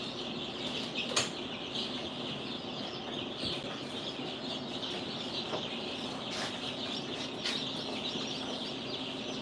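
A newly hatched duckling peeps faintly in a quiet room, with scattered thin chirps over a steady high background hiss.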